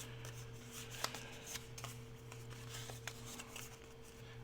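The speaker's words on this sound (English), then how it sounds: "make sure that all of my little lines here are folded the same way" Paper strips folded by hand for handmade flowers, making soft papery rustles and light creases with a few crisp ticks, close and quiet over a steady low hum, with no talking.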